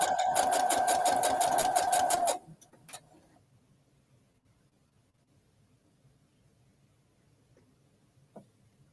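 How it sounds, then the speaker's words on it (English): A sewing machine stitching tiny fabric triangles together runs loud and steady for about two seconds, then stops abruptly, leaving quiet room tone with a few faint clicks and taps. "We're just sewing tiny little triangles together today."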